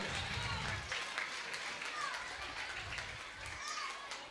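Faint, distant applause from a crowd at a Vellore municipal event carries on throughout, with voices talking and calling out over the clapping.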